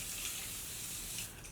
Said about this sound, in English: I'm just gonna spray my face again with some water